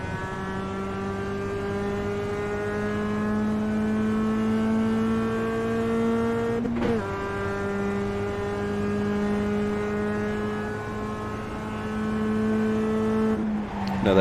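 Race car engine at Road America holding a steady high drone, pitch easing slightly as it brakes into a corner, with a sharp blip near the middle and a dip near the end; loud, close onboard sound with no talking.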